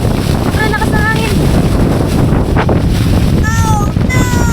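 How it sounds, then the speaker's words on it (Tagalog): Strong gusting wind in stormy, foggy conditions at Ngong Ping village, Hong Kong, roars loudly against the microphone in a constant buffeting rush, with a few thin whistling tones rising and falling through it. "Sobrang lakas na hangin."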